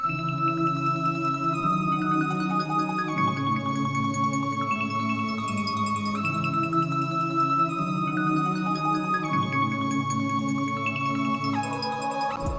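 Layered main melodies from the first part of a song play together, a steady loop of shifting synth notes and pads over low tones, with no voices.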